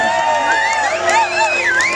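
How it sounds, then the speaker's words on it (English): An audience at a blues festival cheers and whoops loudly in a short burst, with shouting voices mixed into the crowd noise. "Let's give June a nice round of applause"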